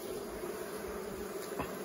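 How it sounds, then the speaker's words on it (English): A dense, steady drone of many honey bees buzzing together as hive frames are lifted out, close and continuous, with no talking. "The roar of the bees."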